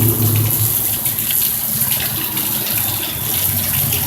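A car ploughing through deep flood water from heavy rain in Amarillo, Texas, a loud, steady gushing and splashing rush of water close by.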